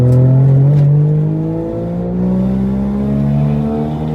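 A modified Suzuki Cappuccino kei car engine revs loudly and close by in one sustained, buzzing drone, its pitch sagging slightly and then climbing again over four seconds, with no voices.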